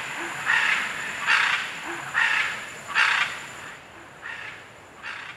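Scarlet macaws calling in Costa Rican forest on the Osa Peninsula, six loud harsh squawks repeating about every 0.7 seconds, the last two a little fainter, with no voices present.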